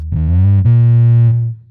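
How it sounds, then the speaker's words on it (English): A bass note slides quickly up and hammers onto a higher pitch, then rings sustained with a thick, slightly distorted tone before fading out. "there's a quick slide plus hammer-on"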